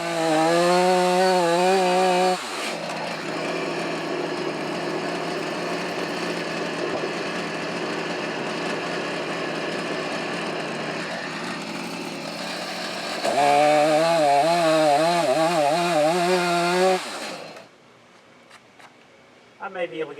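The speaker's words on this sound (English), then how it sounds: "Cut a flat off the back." A chainsaw cuts a flat off the back of a cherry burl. The engine drones loud and steady under load, with a revving rise near the end before it drops to idle and stops.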